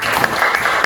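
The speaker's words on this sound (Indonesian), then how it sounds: "Tepuk tangan dong." Applause from a class during a lesson, a short burst of dense, fairly loud clapping with no pause.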